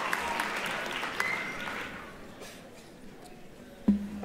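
A commencement audience applauds steadily, a broad wash of clapping that fades gradually, heard from within a large hall with a faint voice near the end.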